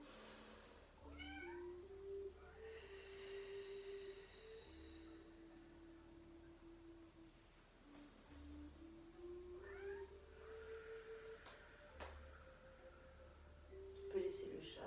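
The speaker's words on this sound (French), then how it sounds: "Ne vous inquiétez pas, il y a mon chat qui passe." A domestic cat meows repeatedly, giving several drawn-out, quiet, wavering meows spread over the stretch, while a person talks softly in the background.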